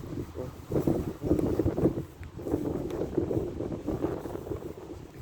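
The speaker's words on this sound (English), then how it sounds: "It's windy out today." Gusty wind buffeting the microphone in low, uneven rumbling surges, rising and falling throughout.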